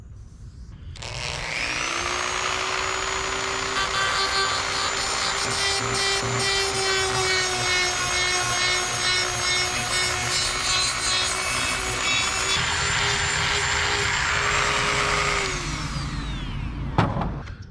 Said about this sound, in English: We're going to get out our Dremel. We're going to scuff this area up pretty good